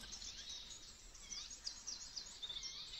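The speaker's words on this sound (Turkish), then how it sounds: "Kuş sesi duydu bak." Small birds chirp and twitter faintly at a campsite in a green highland meadow, thin high calls repeating over a low, steady outdoor hiss with no voices.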